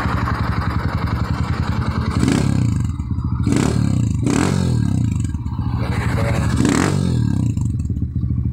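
A Honda XR200 motorcycle engine runs nearby with a loud, steady thumping idle, rising in a few brief revs, with mechanical clatter over the rhythm.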